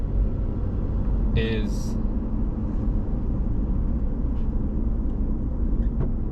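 Steady low road rumble and engine drone fill the cabin of a moving car, continuous and unchanging, with a voice briefly speaking over it.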